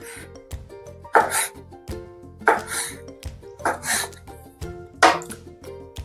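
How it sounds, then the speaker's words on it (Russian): A knife slices frozen Yakut chir fish for stroganina, giving four evenly spaced rasping, scraping cuts close up against a quiet background. "Я нарезаю это вот так."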